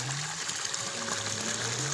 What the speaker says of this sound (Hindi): तो गाइस ये मोटर तो चल गई है, पानी निकल रहा है